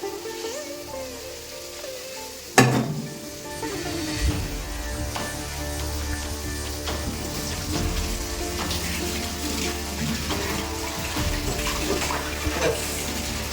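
Dirty dishes are washed in a kitchen sink, with a steady rush of running water, a sharp clatter of utensils near the start, and scattered clinks and splashes throughout, close by.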